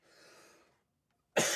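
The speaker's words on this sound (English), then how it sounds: "I'll try not to cough too much" A person with bronchitis gives a single sharp, loud cough at close range at the end, after a softer breathy sound and a short silence.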